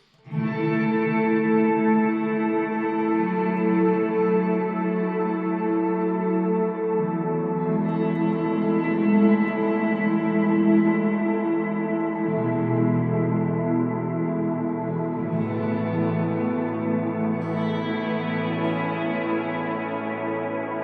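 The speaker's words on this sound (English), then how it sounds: "if you put the decay knob very high along with the mix, you can have some really ambient drones effects with that" A Strymon reverb pedal set with high decay and a high mix swells into a dense, sustained ambient drone, layered harmonic tones hanging and slowly shifting for about twenty seconds with no break.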